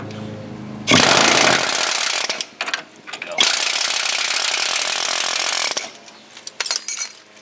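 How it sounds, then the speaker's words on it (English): An air hammer pounds an adjustable wrench on the front suspension of a Pontiac GTO/LeMans during a spring install, with two long, loud, rapid-fire bursts of hammering separated by short pauses and a few brief stutters at the end. "I'm gonna whack it with the air hammer on the other side so it'll come out."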